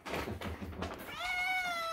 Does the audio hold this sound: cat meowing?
yes